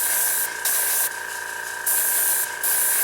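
Badger Minitaire airbrush spraying paint onto a primed model in steady bursts, a loud close hiss that cuts off briefly between passes, no talk.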